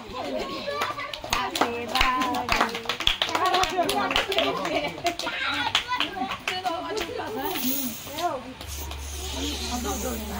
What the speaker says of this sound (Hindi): ताली मारो ताली मारो ताली मारो